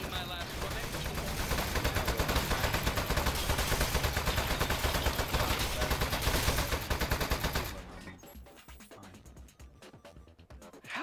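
Rapid automatic turret gunfire from the video game Desk Job rattles loud and steady for about eight seconds, then cuts out, leaving quieter scattered game sounds.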